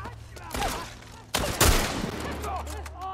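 Gunshots and chaotic combat in The Last of Us Part 1, loud bursts and a heavy blast mixed with shouting voices and game noise.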